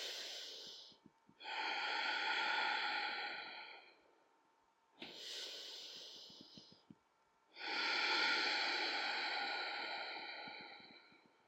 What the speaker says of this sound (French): Inspire profond et expire profond.